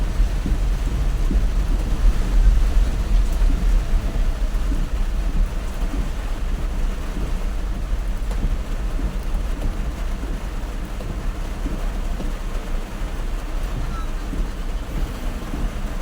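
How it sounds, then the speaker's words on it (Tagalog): Storm rain and wind heard from inside a car on C5 Road, a dense steady rumble and wash of rain and road noise with heavy low-end buffeting, and people talk over it. "May bagyo eh."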